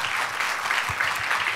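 An audience at a conference applauds to welcome a speaker to the stage, steady clapping from a crowd at moderate distance that continues evenly throughout.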